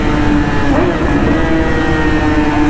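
Yamaha R6 sport motorcycle engine and exhaust while riding at speed, a loud, steady high-revving drone with constant wind rush, close and continuous; a rider talks over it.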